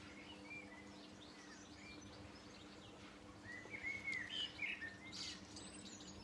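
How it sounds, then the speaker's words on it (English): Garden birds chirping and singing, faint and somewhat distant, with scattered tweets that grow busier in the latter half over a low, steady hum. "And I could just hear the birds again"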